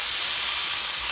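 Meat frying in a pan, giving off a close, steady, bright hiss of sizzling fat for a brief moment with no voices.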